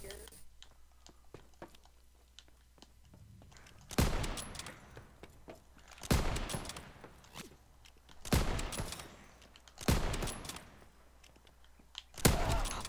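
Five sharp sniper rifle shots in a zombies video game, each a hard crack with a short decaying tail, fired at a steady pace about two seconds apart over near-silence.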